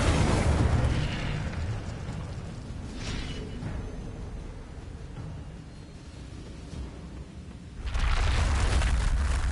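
An Incendio fire spell in Hogwarts Legacy erupts in a loud, rumbling blast, easing into a lower roaring crackle before a second heavy burst swells near the end.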